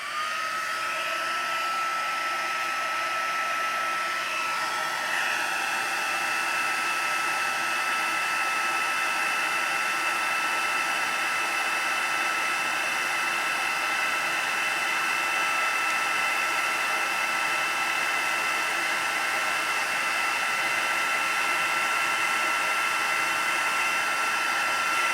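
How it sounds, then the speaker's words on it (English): A heat gun blows steadily for about 25 seconds during a small crafting project, a loud continuous hot-air roar with a high whine that shifts slightly near the start, then holds an even tone. "that's the heat gun."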